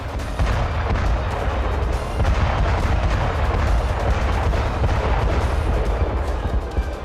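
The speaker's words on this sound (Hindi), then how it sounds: "शॉकवेव बम से जेलेंस्की ब्रिगेड के कई ठिकाने दहल उठे" Heavy bomb blasts from shockwave bombs striking military positions in the Russia-Ukraine war, a continuous loud, rumbling roar of explosions and booming impacts that fills the whole stretch with no voices.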